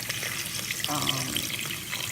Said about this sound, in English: So that's about how much water I'm going to start off with.